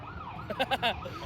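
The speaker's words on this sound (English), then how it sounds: "we've just got the wonderful sirens in the background there" Emergency sirens wail in the distance at an outdoor speedway event, a few short rising tones faint under crowd ambience.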